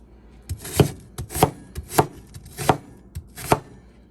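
An onion being chopped with a knife on a cutting board for a wok stir fry, with about eight crisp, fairly even knife strikes in a steady rhythm, close and clear with no talk.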